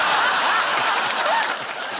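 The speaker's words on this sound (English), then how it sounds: "You're applauding this poor bloke" A live comedy audience applauds with a steady wash of clapping, with faint laughter mixed in, from a crowd a moderate distance away.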